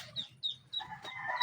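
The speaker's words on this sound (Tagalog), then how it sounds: "Ay, may mga manok man." Chickens give a few brief clucks and squawks at close range, quiet and short, with no speech.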